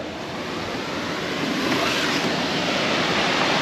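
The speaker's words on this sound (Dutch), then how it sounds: "klein watervalletje" A small waterfall running past a parked camper, a steady broadband rush of falling water that swells slightly and holds loud and close throughout, with no voices.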